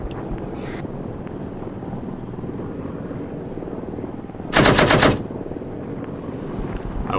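A short burst of rapid machine gun fire in the Arma 3 video game erupts over a steady rumbling engine-like drone, lasting about half a second, close and loud, with no talking.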